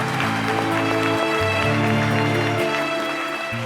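A studio audience applauds on a television talk show set, a steady, dense wash of clapping over sustained music tones, loud and continuous throughout without letting up.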